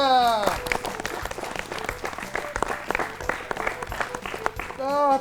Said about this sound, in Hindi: आज के बच्चे बड़े होनहार लगते हैं, हर बात पे जोरदार तालियां बजा रहे हैं